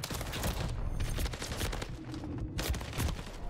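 SMG gunfire in a video game, fast bursts of shots repeating over several seconds with a short pause near the middle, close and steady with no talking.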